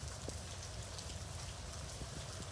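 Rain falls steadily, a soft and fairly quiet patter of drops that forms an even wash of noise with no voices.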